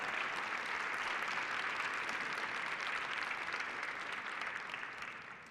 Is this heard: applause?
yes